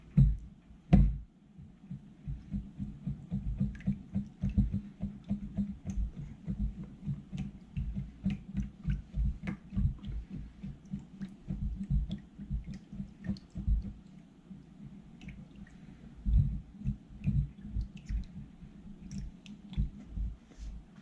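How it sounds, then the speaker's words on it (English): Gooey gak slime being stirred by hand, giving a steady run of soft wet squishing and sticky clicking sounds, fairly quiet and continuous throughout. "while that's still pouring, start mixing it."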